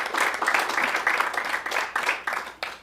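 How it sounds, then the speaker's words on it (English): An audience applauds sponsors at an event, a dense, steady round of hand clapping that fades in bursts toward the end, with no talk over it. "So let's really give them a round of applause,"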